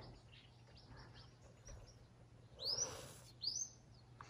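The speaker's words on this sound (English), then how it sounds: "You could hear all the birds." Birds chirping outside a cabin in the morning: faint, distant calls over a quiet hum, with two brighter, closer chirps near the end.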